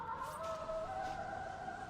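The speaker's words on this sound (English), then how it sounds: "And now, Zibe's going to pop the ult. The Song of the Siren comes through," Song of the Siren ultimate ability effect in a Dota 2 match, a sustained tonal, sung-sounding chime holding steady throughout, moderately loud with a faint background murmur and no talk.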